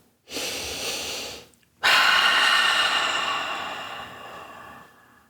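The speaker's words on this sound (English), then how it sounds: "So I want you to breathe deeply." Two deep breaths, close and loud: a short inhale, a brief pause, then a long, airy exhale that slowly trails off, with no talking.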